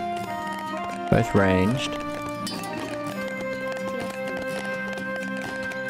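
Horses galloping in the strategy game 0 A.D., a steady low clatter of hooves beneath game music and effects while a commentator talks over it.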